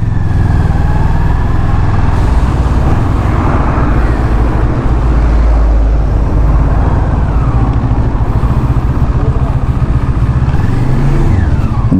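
An NK400 motorcycle rides through road traffic, its engine droning loud and continuous over a wash of wind and surrounding vehicle noise.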